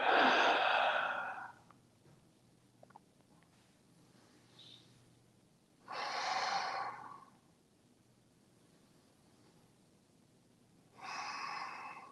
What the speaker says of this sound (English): Breathe deeply here.